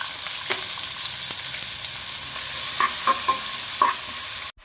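Thinly sliced onions frying in hot oil with cumin, mustard seeds, dried chillies and curry leaves, a steady close sizzle broken by a few scraping stirs of a spoon in the pan, ending abruptly.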